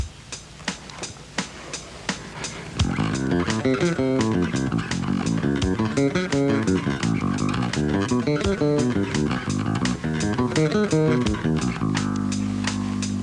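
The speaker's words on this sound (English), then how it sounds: "Let me play it with the drum machine." Bass guitar plays flowing alternating major and minor arpeggios up and down the neck over a steady drum machine beat, with a few sparse clicks before the groove starts, loud and close.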